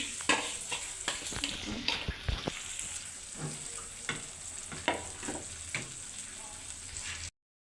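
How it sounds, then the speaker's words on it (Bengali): Dried loitta fish tipped into a hot pan and stir-fried, sizzling under repeated scraping strokes and clinks of a spatula, close and moderately loud, ending abruptly. "তো এই শুটকিটা আমি এখন দিয়ে দিচ্ছি"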